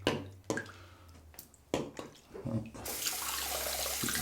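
Water runs from a tap into a sink during a wet shave with a Rockwell 6c adjustable razor: a few clunks and splashes give way to a steady, loud rushing stream, with no talking.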